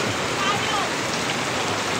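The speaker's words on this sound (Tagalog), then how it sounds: "Yan, ang lakas ng ulan." Heavy rain falls on a vegetable garden in a continuous, dense hiss, loud and even with no break.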